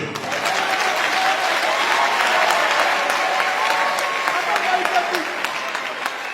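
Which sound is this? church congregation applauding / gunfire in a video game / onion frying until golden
church congregation applauding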